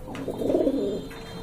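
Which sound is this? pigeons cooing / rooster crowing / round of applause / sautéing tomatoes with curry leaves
pigeons cooing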